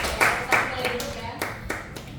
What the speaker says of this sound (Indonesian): Boleh tepuk tangan dulu untuk bapak-bapak